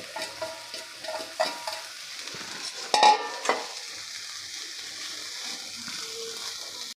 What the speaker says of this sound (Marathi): मेथी फक्त आपल्याला हलकीशी परतून घ्यायची आहे